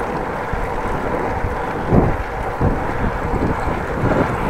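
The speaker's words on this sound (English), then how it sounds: "Although we do have some wind." Steady wind buffeting the microphone while cycling into a headwind on a Dutch country ride, a constant broadband rumble with a few stronger gusts.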